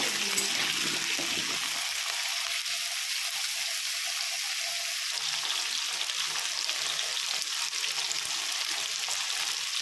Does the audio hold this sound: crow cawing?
no